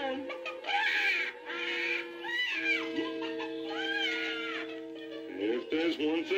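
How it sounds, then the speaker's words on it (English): A magic hen on a 1977 children's record squawks and clucks in shrill, frantic bursts. Sustained musical tones play underneath, and character voices are heard in the scene. "it started squawking like it had its tail caught in an electric fan"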